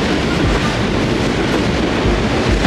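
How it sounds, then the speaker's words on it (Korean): A train rolls past a cafe in Nakameguro, Tokyo, with loud, close, continuous rumble and wheel clatter filling the whole stretch, and no talk. "기차다!"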